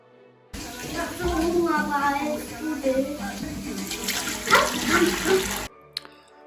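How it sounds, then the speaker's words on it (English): Wheat beer sauce from beef roulades pours and splashes steadily through a sieve for several seconds, a wet gurgling stream close by that stops abruptly near the end. "Take roulades out of the sauce and pour sauce through a sieve."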